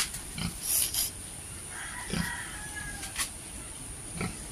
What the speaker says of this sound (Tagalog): Yung pong baboy talagang malalaki na.